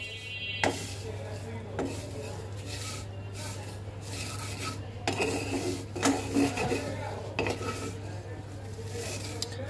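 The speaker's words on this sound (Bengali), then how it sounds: "কম আঁচে আমি ভেজে নেব।" Vermicelli toasting in ghee over low heat in a pot, with a steady low hum beneath repeated scraping and clinking of a spoon stirring against the pan, no voices.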